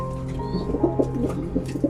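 Racing pigeons coo repeatedly in a loft, soft throaty rolling calls pulsing in a steady rhythm against a faint background hum, close by and moderately loud.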